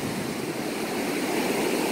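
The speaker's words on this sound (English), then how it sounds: "Look at these waves." Ocean waves rolling ashore at Ventura beach, a steady, loud broadband wash of surf with no breaks, filling the scene without any voices.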